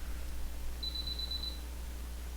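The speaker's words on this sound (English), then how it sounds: "That's my alarm system on the house." A house alarm system gives a single high, thin electronic beep lasting under a second, heard faintly over a steady low hum in a quiet room.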